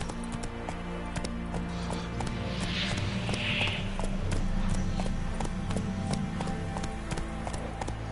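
Hooves of the horse in The Witcher 3 video game clip-clop in a steady running rhythm throughout, close and moderately loud over a low background hum, with a faint whinny-like burst partway through.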